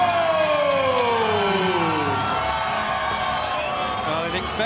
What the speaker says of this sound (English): an expectantly partisan crowd here in the Dominican Republic